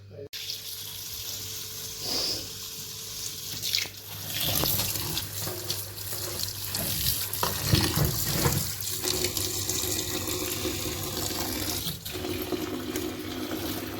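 Kitchen tap water runs steadily into a sink while fresh coriander, spinach and fenugreek are rinsed, a continuous close splashing stream with brief shifts as the leaves are handled, for pakoras on a rainy day.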